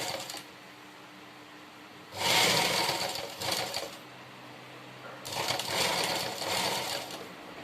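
A sewing machine with a single presser foot stitches piping for a neckline and armholes. Two clear mechanical bursts stand out against a quiet background.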